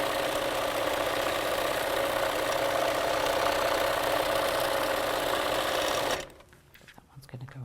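A sewing machine stitching quilt pieces hums and whirs in a fast steady run for about six seconds, then stops abruptly, leaving quiet room noise.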